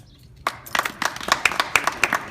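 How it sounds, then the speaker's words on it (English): Audience applause at a USS Liberty commemoration on Memorial Day, beginning abruptly after a quiet moment and continuing as a steady, moderately near clatter of many hands. "Big applause for Rand."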